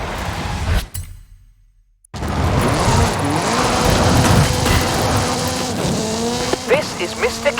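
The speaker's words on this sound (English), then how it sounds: "This is Mr. Kenneth Block's Hooligan Gymkhana 10 Ford Focus RS RX. 2-litre, turbocharged, front-mounted engine and all-wheel drive." The Hoonigan Gymkhana 10 Ford Focus RS RX, a 2-litre turbocharged all-wheel-drive rally car in Forza Horizon 5, drifts with loud sustained tyre squeal over a revving engine, following a brief dropout of silence.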